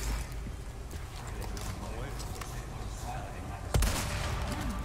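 Gunfire in the game Resident Evil 4 Remake: one sharp, loud shot stands out near the end over continuous game noise, while a person talks throughout.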